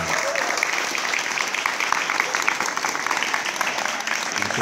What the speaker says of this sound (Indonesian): tepuk tangan untuk yang sudah selesai